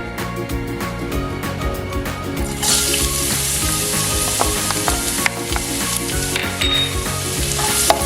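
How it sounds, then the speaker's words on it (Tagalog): Minced garlic dropped into hot cooking oil for a pork and tofu oyster-sauce dish bursts into a loud, bright sizzle that stays strong and steady, with occasional clinks of a utensil in the pan. "kung mainit na ang ating mantika, ilagay na natin ang ating minced garlic"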